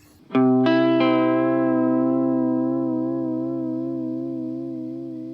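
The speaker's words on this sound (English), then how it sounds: "you can get pretty much the sound of the Boss vibrato" A guitar chord is struck and rings out through a Triungulo Lab Malombra chorus/vibrato pedal, a gentle wavering vibrato slowly pulsing in pitch as the note sustains and fades.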